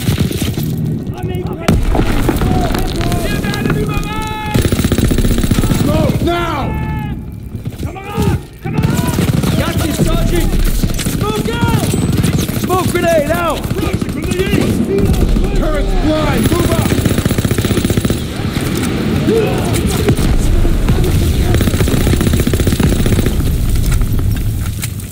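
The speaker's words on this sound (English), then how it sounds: "MGs, open fire!" Rapid machine gun bursts from WWII-era weapons in Call of Duty WW2 combat, mixed with scattered gunshots, explosions and shouted voices; loud, dense firing runs through most of the stretch with brief pauses.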